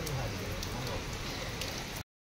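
Steady rain falls on an outdoor worship gathering during daytime, a dense even hiss with scattered drops that stops abruptly.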